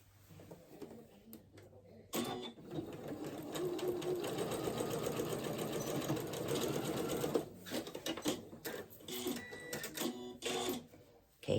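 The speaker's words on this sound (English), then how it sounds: "turn this around and sew these together at" A home sewing machine stitches a seam on pajama pants in one sustained run of rapid needle chatter, followed by shorter bursts and clicks as the fabric is adjusted.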